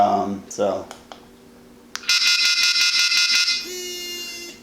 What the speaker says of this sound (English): so it tones and vibrates. Not a fan of that, but I guess it's a good signal.